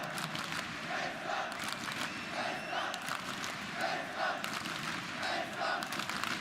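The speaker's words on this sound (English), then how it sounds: "The crowd know who they want in those finals." Crowd noise from an esports audience at ESL One Cologne 2017 during a CS:GO semifinal between FaZe and SK on Cache, a sustained roar with repeated rising chants and cheers, heard at a distance in a large arena.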